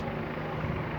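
A steady, loud rotor drone of a helicopter fills a brief moment, continuous and unbroken, with no voices.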